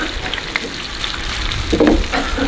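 Tofu frying in a pan gives a steady close sizzle with crackling bursts that grow busier near the end, with no talk over it.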